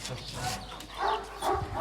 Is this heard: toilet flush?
no